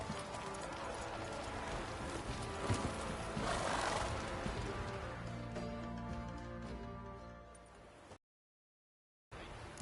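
Roach, the horse in The Witcher 3, trots along with steady clip-clop hoofbeats over continuous game music and ambience, broken by a short silent gap near the end.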